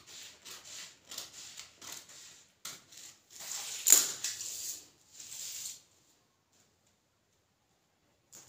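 Fabric for a gown being cut out along a marked back neckline, heard as a run of close, soft scissor snips and rubbing strokes that stop partway through, leaving quiet.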